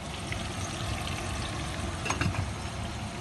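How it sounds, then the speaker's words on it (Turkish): Steady, dense sizzle of tomatoes frying in oil, continuous throughout, with a few brief scraping or stirring touches near the end. "Yan tarafta da domatesler kızarıyor."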